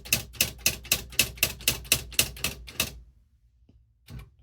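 Smith Corona SL 500 electric typewriter typing a rapid, even run of about eleven sharp key strikes, close up, followed by silence and one last soft thunk.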